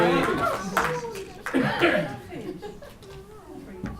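An audience claps in scattered bursts mixed with chuckles and laughter, close and fairly loud, while people talk over it.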